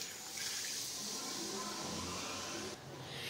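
Water pouring steadily into a pot of brinjal and drumstick sambar being cooked, a continuous close hiss and splash that dips briefly near the end before resuming.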